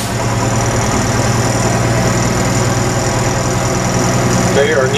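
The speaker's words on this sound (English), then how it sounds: "So I'm going to start the engine, increase my RPMs." A heavy truck engine runs during a CDL pre-trip inspection, holding a loud, steady drone at raised, fairly constant RPM throughout, with a brief voice near the end.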